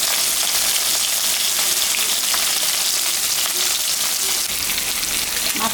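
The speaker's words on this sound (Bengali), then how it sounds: "মাছ ভাজার জন্য আমি একটু তেল দেব।" Salted, turmeric-rubbed hilsa fish frying in hot oil in a wok, a loud, steady, hissing sizzle that runs without a break, close up and with no talking.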